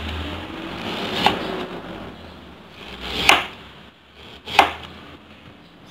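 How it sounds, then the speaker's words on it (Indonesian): Knife slicing peeled ginger on a cutting board, three sharp separate cuts spaced a second or two apart over a quiet kitchen background, no talking. "Kita iris tipis dulu, kemudian kita iris panjang-panjang."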